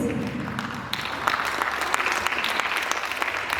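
An audience at a children's variety-theatre studio concert claps for the girls who just performed, a steady dense wash of applause from a crowd that holds through the whole stretch.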